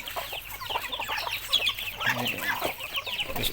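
Pet chickens cluck and squawk close by at feeding time, a busy overlapping chatter of short calls from several birds with no speech.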